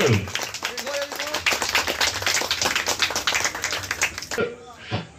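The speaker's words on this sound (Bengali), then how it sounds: "আর তালি হোক সকলে মিলে।" An audience at a puja club Diwali event claps, a dense patter of hands with a voice talking over it.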